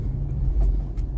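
Cars driving along both sides of a road in Qatar, a close, continuous low rumble of passing traffic with a few brief swells as vehicles go by.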